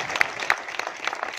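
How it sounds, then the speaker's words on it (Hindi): Brief scattered applause from an audience at a yoga sports event, a handful of loose, uneven claps at moderate distance rather than a full ovation. "अरे तालियां तो बजाओ यार"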